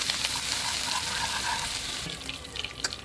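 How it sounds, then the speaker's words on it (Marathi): Ginger sizzling in hot oil for a biryani tempering: a steady, close hiss of frying with faint watery crackle and a few sharper pops near the end, no talking. "आता तेल गरम झाले आहे अद्रक टाकली"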